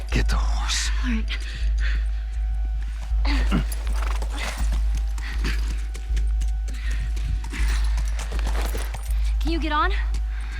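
Horse hooves clip-clop in The Last of Us video game, a steady rhythmic plodding under game audio, with people talking over it throughout.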